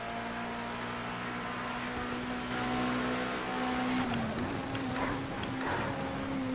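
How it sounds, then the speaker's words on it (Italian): A 940-horsepower race car in Project Cars 2 holds a steady, droning engine note with turbo whine that shifts pitch midway and grows slightly rougher, with no talking. "sentite il turbo"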